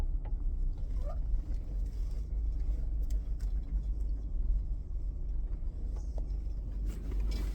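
A car engine rumbles low and steady while the vehicle is maneuvered back into a tight parking spot, with faint mechanical clicks and shifts over the continuous hum.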